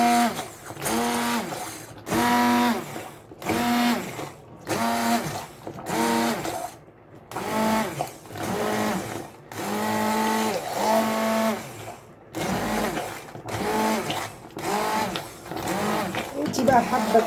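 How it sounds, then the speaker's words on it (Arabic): A hand blender purees hot beetroot in repeated whirring bursts that start and stop every second or so, close and fairly loud, with a voice talking over the pulses. "هجيب الهاند بلندر وهي سخنه كده. هنضربها بالهاند بلندر"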